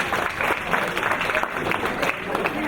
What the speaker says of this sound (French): même à leur absence, on applaudit quand même, on applaudit.